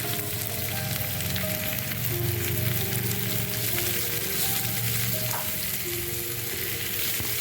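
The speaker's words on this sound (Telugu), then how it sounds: "క్యాప్సికమ్ వేసుకొని మళ్ళీ ఒకసారి ఫ్రై చేసుకుంటాం." Onions and capsicum fry in a pan for a chicken drumstick starter, giving a dense, continuous hissing sizzle that stays loud and close throughout with no talking.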